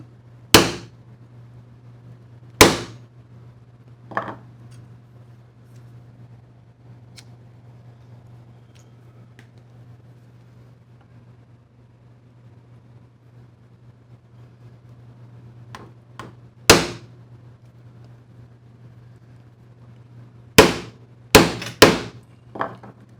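A mallet strikes a chisel while dovetails are cut by hand in wood, sharp sparse knocks at irregular intervals with long quiet gaps, ending in a quick cluster of several blows, over a low steady hum.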